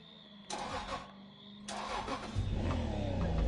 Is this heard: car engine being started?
yes